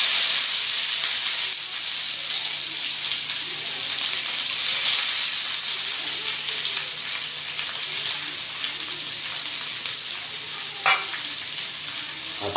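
Sliced onion frying in hot oil with bay leaf, cinnamon and cardamom, a steady loud hissing sizzle throughout, with an occasional stir and a brief clink of a utensil near the end.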